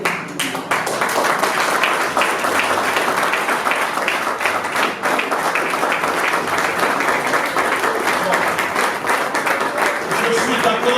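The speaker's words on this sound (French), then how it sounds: "Donc un petit hola, en fait un petit applaudissement." A church audience at an evangelical conference applauds, dense sustained clapping that runs loud and steady throughout, with voices mixed in beneath it.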